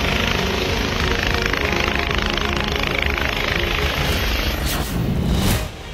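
A helicopter's rotor and engine roar steadily and loudly for several seconds, then the noise shifts and dips near the end, with no talk in the foreground.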